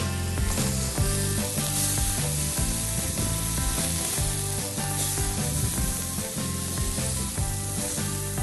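Meatballs (kyufte) made of minced game meat fry in a pan with a loud, continuous close-up sizzle, dense crackling and spitting throughout over a steady rhythmic clatter.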